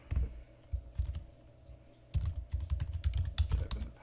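Someone typing a password on a computer keyboard: two quiet runs of soft keystrokes separated by a brief pause, close and clear with no talking.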